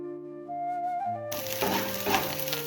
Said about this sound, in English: And now it's time to fry the rice.